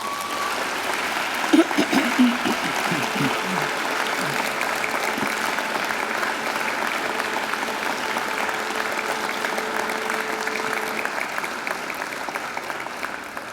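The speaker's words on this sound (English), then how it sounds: "And now I invite you to give them a mighty round of applause." A graduation ceremony crowd gives a long, sustained round of applause for families and friends, a dense even wash of clapping that holds steady throughout, with brief voices near the start.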